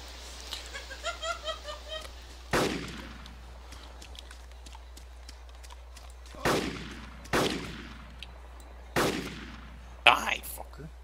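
Bursts of light machine gun fire in the survival game DayZ Epoch, four sharp loud volleys spaced a few seconds apart, with faint laughter-like chatter early on.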